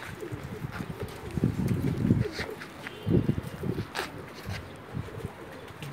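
A pair of Pakistani pigeons coos close by in soft, rumbling bursts, the longest swelling around the middle, with light scuffling and faint background sounds between the calls.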